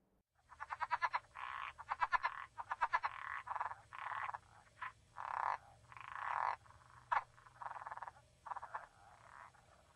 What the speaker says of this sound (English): the southern leopard frog makes a pulsing series of sounds that are described as ak, like this